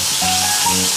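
Margarine sizzling and frying in a hot pan as the base for a king crab sauce, a steady close crackling hiss with no talking.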